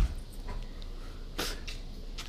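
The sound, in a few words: show dog playing and whimpering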